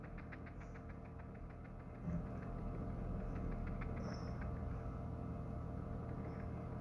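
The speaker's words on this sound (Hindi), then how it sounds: "बारीक सिलाई कर रही हूँ।" A sewing machine runs fine stitches on the neck piping of a little girl's umbrella-panel kurti. A steady motor hum carries rapid, regular ticking, fairly faint and close, with no voices.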